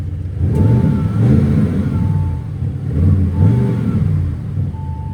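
An Audi RS6 engine revs repeatedly, each throttle blip rising to a deep throaty roar and falling back, several loud close-up pulses in a row with no voices.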